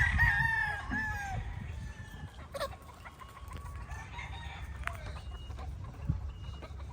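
A young rooster on a farm crows loudly and close at the start, followed by scattered clucking from chickens against a busy farmyard background with a few sharp knocks.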